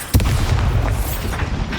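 A Bombarda blasting spell in Hogwarts Legacy detonates with a sharp onset and a deep rumbling boom that sustains loudly for well over a second, with no voices.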